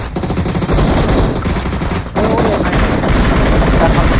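Dense, continuous rapid gunfire in PUBG Mobile, loud and sustained throughout, with bursts overlapping and a brief dip around the middle.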